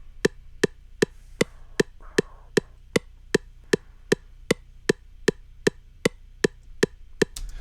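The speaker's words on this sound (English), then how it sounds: "we're going to turn our metronome on" FL Studio metronome clicking at a steady tempo, about two crisp clicks per second across the whole stretch, loud and regular with no voices.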